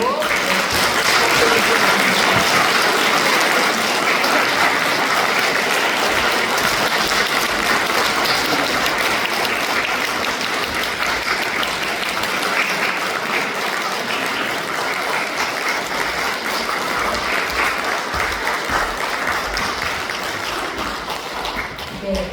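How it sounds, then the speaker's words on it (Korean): A congregation at a Won Buddhist temple farewell service applauds loudly. The dense, steady clapping fills the hall without a break for more than twenty seconds. "교도님들은 큰 박수로"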